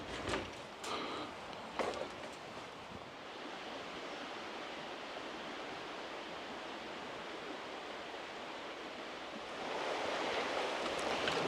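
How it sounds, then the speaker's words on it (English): A Welsh river rushes past in a steady broadband wash, constant and fairly near, swelling slightly louder toward the end, with a few faint knocks at the start and no voices. "Oh, the river's gone down now."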